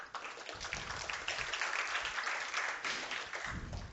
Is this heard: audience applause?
yes